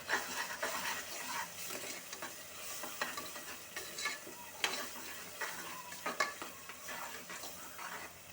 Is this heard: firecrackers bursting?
no